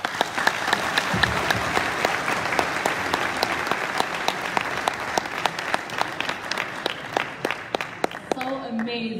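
A crowd at a Friday-evening community meeting in DC applauds after a speech, with sustained, closely packed clapping punctuated by sharper individual claps. A voice begins speaking as the applause ends.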